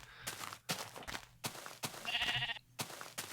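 Sheep bleating in Minecraft, several short repeated bleats from nearby game animals, moderately loud with no talking.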